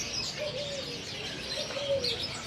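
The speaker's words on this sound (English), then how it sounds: "there's pigeons in there. Oh wow, that's like a pigeon shop, I think, or a dove shop" Pigeons and doves in a bird shop in Bali, soft repeated cooing and a few chirps over a busy ambient background, moderately faint and continuous.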